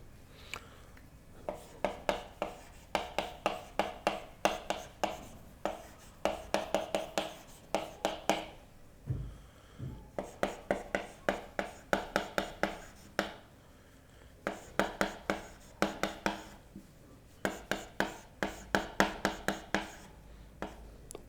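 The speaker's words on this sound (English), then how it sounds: "I would like to write down here" Pen or marker strokes scratch steadily across a writing surface while equations are written out by hand, in bursts of quick rhythmic marks with a brief pause midway, close and fairly clear with no talking.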